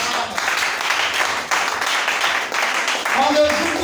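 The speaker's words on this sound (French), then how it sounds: "Acclamons très fort." A church congregation at an Easter service claps and cheers in sustained, lively applause, with a voice speaking over the noise.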